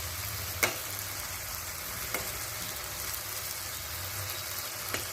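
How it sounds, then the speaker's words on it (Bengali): Eggplant pieces deep frying in hot oil give a steady, even sizzle, with a few sharp pops standing out above the continuous hiss. "ছাঁকা তেলে ভাজা হয়েছে"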